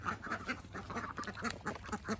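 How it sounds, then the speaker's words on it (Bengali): Ducks on a backyard farm quack repeatedly in a steady, busy chorus of overlapping calls, close by and moderately loud, with no talking. "দেখেন আমাদের হাঁসগুলা কত বড় হয়ে গেছে।"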